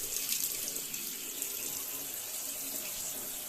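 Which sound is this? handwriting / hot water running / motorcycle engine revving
hot water running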